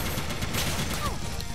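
A dense wave of bullets fires in the Mighty No. 9 video game, a loud continuous rattle of rapid shots with a short whistling zip near the end, all packed into a brief burst.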